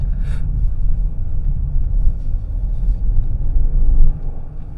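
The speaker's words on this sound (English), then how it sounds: "that's the down changes" A 2024 Genesis GV70 engine rumbles steadily from inside the cabin, its tone dipping and surging as it shifts down through the gears.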